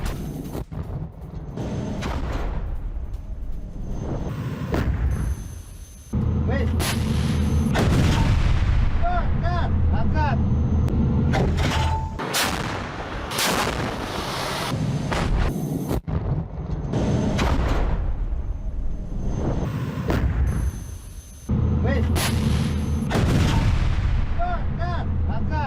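Heavy gunfire from a Russian T-80 tank attacking Ukrainian positions in Donetsk, with repeated loud booming shots and blasts over a dense, continuous roar of battle, some separated by brief lulls; faint voices may sit under the din.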